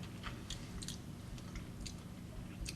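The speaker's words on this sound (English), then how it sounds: "There's a lovely crunch from the nuts as well." Someone chews a crunchy chilli chocolate bar with pecans close to the mic, giving soft repeated crunches and squishy bites over a steady low background hum, with no voices.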